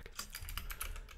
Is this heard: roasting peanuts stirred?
no